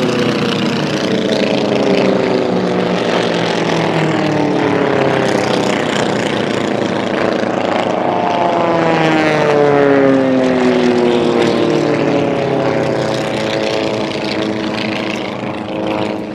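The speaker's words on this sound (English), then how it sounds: "They have to pass the other aircraft." Propeller race planes at an air race in Thailand, flying close together and sweeping past with a loud, continuous buzzing drone whose pitch bends and shifts as they pass nearby.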